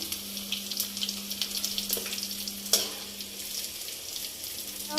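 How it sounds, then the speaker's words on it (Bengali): Taruli vegetable frying in a pan, giving a steady, close sizzle with faint crackles and a low electrical hum underneath; no one speaks. "তরুলি ভাজা"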